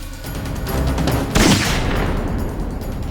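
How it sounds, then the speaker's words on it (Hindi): Gunfire in a TV crime drama scene, a sharp loud shot bursting out around the middle over a busy, rumbling dramatic background, with no talk. "भागते वक्त अभिजीत मुझे रोकने के लिए गोली चलाएगा"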